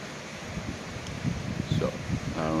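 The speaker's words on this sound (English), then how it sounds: "that loud noise is the wind." Strong cold wind blows steadily outdoors, buffeting the microphone with a rough low rumble and rustle that swells in gusts toward the end, with no talking.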